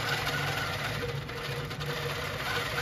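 A Handi Quilter longarm quilting machine stitches fabric for a tote bag, giving a steady, continuous mechanical whir and hum that runs unbroken throughout.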